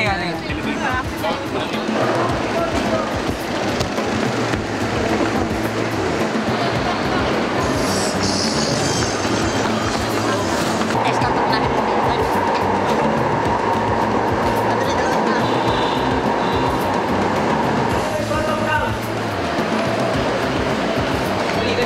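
An MRT train near Guadalupe Station in Manila rumbles loudly and continuously along the rails, with wheel clatter and metallic squeals, while people talk over the noise inside.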